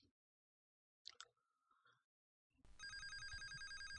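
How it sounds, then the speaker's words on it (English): A telephone rings in the video game Facade, starting after a few faint sounds and then sounding as a steady, loud electronic ring that continues to the end. "I don't want to answer the fucking phone"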